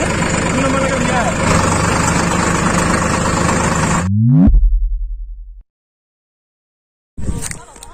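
A tractor engine runs while being driven through a field, a loud, rough, steady chugging for about four seconds before it drops away to silence, then briefly returns near the end.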